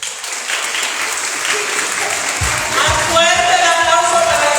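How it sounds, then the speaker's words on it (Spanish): Audience at a gathering of Afro-Latin American women in Livingston, Guatemala, giving loud sustained applause. The clapping is dense and close, with a few voices mixed in toward the end. "Fuerte el aplauso para la señora Tomasa"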